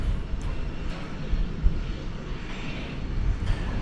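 An American Airlines Airbus A321 lands at DFW Airport after a flight from Phoenix, a low, rumbling engine roar that stays fairly steady and moderately loud with no voices.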